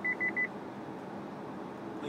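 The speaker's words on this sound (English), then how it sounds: "Lane Keep Assist beeps at us," A car's Lane Keep Assist warning sounds as three quick, evenly spaced electronic beeps, clear and fairly faint over a low, steady road hum inside the cabin.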